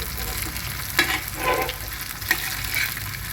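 Chena (yam) slices frying in a pan Kasaragod village style, with a steady close sizzle broken by a few louder scraping stirs as the pieces are turned.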